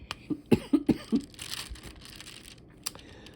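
A rapid fit of five or six dry coughs comes in a close burst, followed by a pause and one last short cough.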